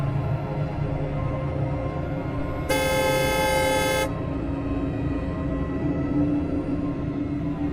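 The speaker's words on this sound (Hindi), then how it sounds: "उसके उतर जाने की उम्मीद में मैंने हॉर्न बजाया।" A single loud car horn blast lasting over a second, cutting through steady traffic and engine rumble.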